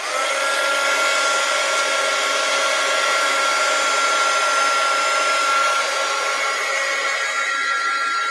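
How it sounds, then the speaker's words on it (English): A heat gun blows steadily for the whole stretch, drying paint on an art journal page, its loud, even whooshing airflow with a high whine running unbroken and alone, no voices. "Let's go ahead and dry this off. Heat gun alert."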